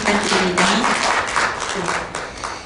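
An audience at a policy forum claps steadily to welcome panelists. The dense applause holds for a few seconds, and a voice briefly talks over it.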